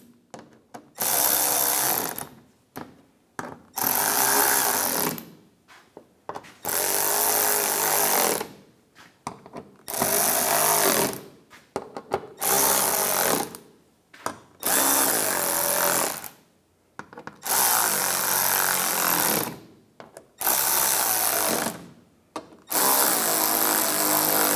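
Power tool driving bolts tight on the front bumper of a 2015-2019 Lincoln MKC, loud whirring bursts of a second or two repeating with short pauses, close and without talk.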